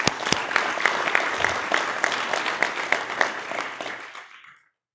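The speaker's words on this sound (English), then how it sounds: "Let's give Maggie a round of applause." Audience clapping at a police department promotion ceremony, a warm crowd round of applause lasting about four seconds with scattered sharper claps, then quickly fading to silence.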